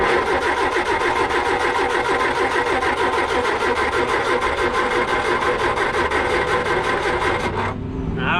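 An old Triumph Spitfire engine with a weak battery cranks steadily and loudly in a fast rhythmic churn for about eight seconds without catching, then stops.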